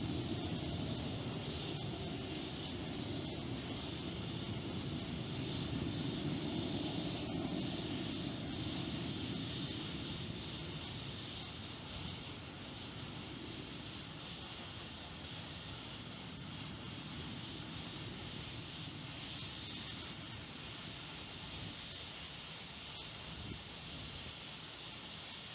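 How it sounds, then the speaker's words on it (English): Astra orbital rocket climbing after launch, heard as a steady broad roaring hiss that stays loud and continuous throughout, a sustained distant rumble without breaks. "Rocket has cleared the island."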